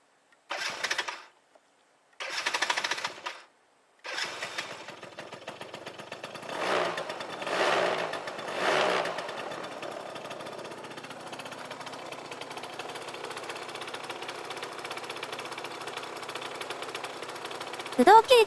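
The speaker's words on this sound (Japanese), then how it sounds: "エンジンをかけます。" Yamaha Axis 90 scooter engine starting with a few short cranking bursts, then settling into a steady, fairly quiet idle with a faint rattle, heard close up.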